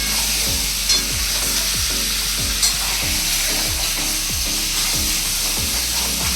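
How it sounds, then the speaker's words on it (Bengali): Meat frying in a hot pan while being stirred, a loud continuous sizzle with a regular rhythm of spatula scrapes, about two per second, close up with no voices. "এবার আমি মাংসটা দিয়ে দেবো।"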